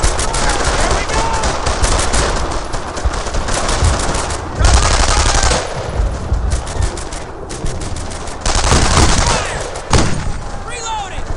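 Rapid, sustained machine gun bursts from Brothers in Arms: Earned in Blood in a close quarters fight. The fire is loud and dense, with brief pauses between volleys, and shouted voices come through faintly in the mix.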